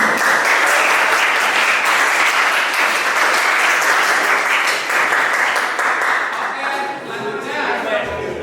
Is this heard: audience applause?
yes